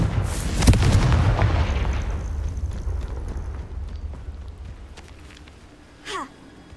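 Confringo spell explosion in the Hogwarts Legacy video game, a loud booming blast at the start that rumbles and decays over several seconds, followed by a brief whooshing effect near the end.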